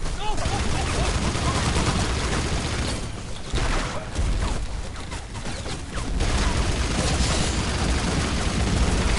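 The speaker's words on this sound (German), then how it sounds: "Stehe unter schwerem Beschuss" Loud, dense gunfire roars without pause in the video game Battlefield Heroes, a constant barrage of shots with booming undertones, close and overwhelming.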